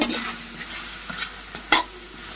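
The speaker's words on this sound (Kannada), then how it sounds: "ಇವನ್ನ ಹುರಿಯುತ್ತೇನೆ ರೀ" Green tomato chutney ingredients roasted and stirred in a kadai, a low frying sizzle broken by several scraping stir strokes and one sharper clatter near the end, close up with no voices.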